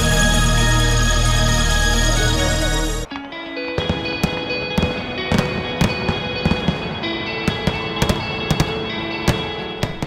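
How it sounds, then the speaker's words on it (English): Fourth of July fireworks in New England, a steady run of loud, sharp bangs and crackling pops coming one after another after a sudden cut from a dense musical passage. "As people across New England were enjoying their 4th of July fireworks"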